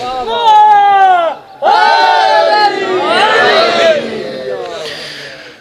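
Crowd of mourners at a Shia majlis in Watna, Raiwind, Lahore raising loud chanted slogans in unison, a sustained call-and-response of many voices that breaks briefly and resumes, close and strong.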